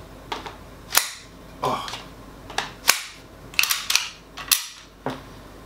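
An Ares M45 airsoft pistol carbine clicking, a series of sharp, crisp snaps spaced irregularly about every half second to a second, close and distinct, with a brief spoken exclamation.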